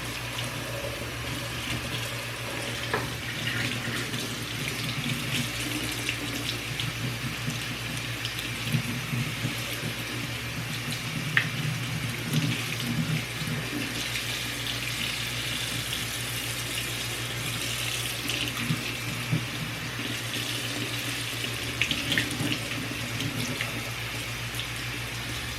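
Tap water runs steadily into a kitchen sink while ackee and quinoa are washed, a soft continuous splashing with faint handling noises.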